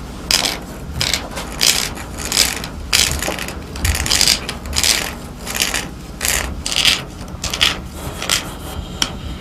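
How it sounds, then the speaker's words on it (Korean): A carving knife twisted inside wet bamboo to hollow it out for arrow shafts, giving steady repeated scraping and grinding strokes in a rhythmic series, close and fairly loud with no talking. "상사칼을 대나무 속에 집어넣어 돌려가며 속살을 전부 파낸다"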